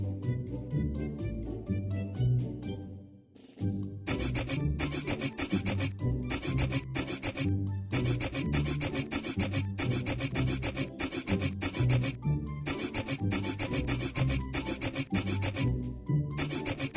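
Rubbing sound effects play repeatedly as a word is cleaned in an English learning game, with rhythmic sanding-like scrubbing bursts pulsing over cheerful background music.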